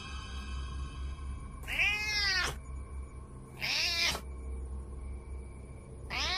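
Three drawn-out black cat meows, loud and close, spaced about two seconds apart over a low steady background hum.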